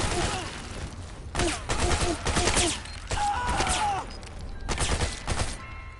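Loud bursts of automatic gunfire in Metal Gear Solid 4 combat, several volleys separated by short lulls, close and dense, with a few shouted voices mixed in.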